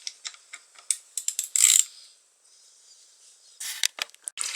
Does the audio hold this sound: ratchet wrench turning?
yes